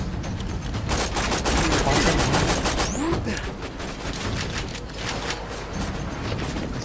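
Gunfire in the video game Borderlands 2, rapid bursts of automatic shots crackling over a busy mix of game effects, loud and close, with some voice activity underneath.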